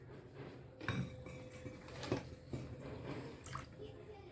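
Water trickles and splashes in small pours as an offering during a Shiva puja at home, faint and close, with soft clinks of a metal vessel and quiet voices in the background.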